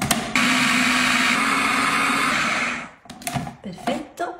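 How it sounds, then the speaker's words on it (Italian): A kitchen blender whirs loudly, mixing almond flour tart dough for an apple crostata, running steadily for about three seconds before stopping, followed by clattering handling noises. "Chiudo e frullo bene il tutto."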